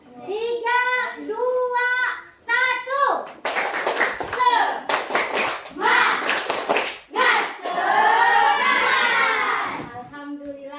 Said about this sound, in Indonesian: Kita akan ice breaking yang namanya tepuk semangat.